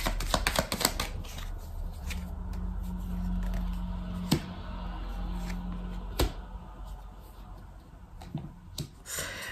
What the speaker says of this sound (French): Je vais recouvrir une ou deux cartes